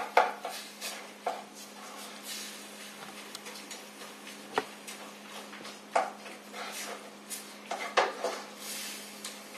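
A wooden spoon scraping and tapping against a pan while stirring ground meat for sloppy joes, irregular clicks and knocks over a quiet, steady background hum, no talking.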